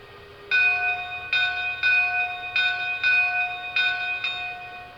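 A Lionel American 4-4-0 brass hybrid model train bell rings steadily in repeated bright metallic strikes, clear and close, with a faint low rumble underneath.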